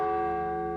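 Bells ring in one sustained, shimmering chord, loud and close, their layered tones holding steady and slowly fading across a brief moment with no talk over them.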